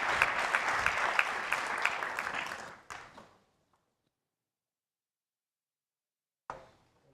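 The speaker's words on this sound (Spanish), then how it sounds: "Recibamos con un aplauso, por favor, a Isaac González" Applause from a conference audience at a Data Day big data talk welcoming a speaker: dense sustained clapping for about three seconds that fades into silence, then a brief faint tap near the end.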